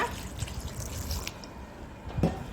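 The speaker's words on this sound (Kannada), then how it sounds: "ಈಗ ಇದಕ್ಕೆ ಟೊಮೆಟೊ ಮುಳು ಮುಳುಗುವಷ್ಟು ನೀರನ್ನು ಹಾಕ್ಕೊಳ್ಳೋಣ" Water is poured into a pan of tomatoes while tomato rice is cooked, giving a faint, close splashing and trickling with a few brief drips and a splash near the end.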